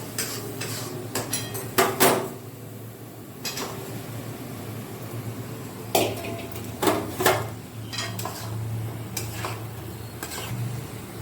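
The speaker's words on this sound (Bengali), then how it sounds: "এটাকে একটু নেড়ে চেড়ে নিয়ে তার মধ্যে আমি ভাজা আলুটা যেটা করে রেখেছি দিয়ে দেবো।" A spoon stirs fried potatoes into masala in a metal pan for aloo dum, with scattered sharp scrapes and clanks against the pan over a low, steady cooking hiss and a background hum.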